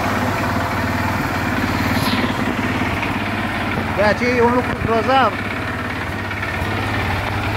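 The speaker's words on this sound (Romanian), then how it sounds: "Băi, motorul merge tipic," A Dinli 801 350cc ATV engine idles steadily with an even, low mechanical chug that runs right through. Someone talks over it the whole time, and a brief whistle-like tone rises midway.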